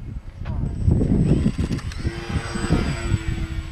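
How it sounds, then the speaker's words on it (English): A video-game airplane takes off into the wind, its engine droning and rising under overlapping voices, with a whining tone joining partway through. "Take off into the wind, definitely."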